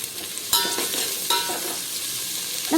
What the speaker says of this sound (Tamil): இப்போ இது கூட வெங்காயமும் நம்ம சேர்த்து நல்லா வதக்கிக்கலாம்.